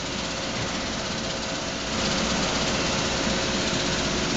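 ERSA Versaflow 40/50 dual-pot selective solder machine running its segmented conveyor with IR preheaters firing, a continuous mechanical drone and broadband hiss that steps up slightly louder partway through.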